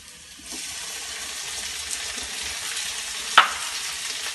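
Fish roe sautés in a pan for a Kerala-style thoran, giving a steady close sizzle that starts after a brief pause, with stirring and one sharp scrape of the spoon against the pan.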